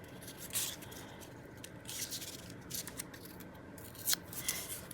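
Paper trim edged with silver ink being torn by hand at the ends, a series of short dry ripping and scraping bursts, close and fairly quiet, with no talking.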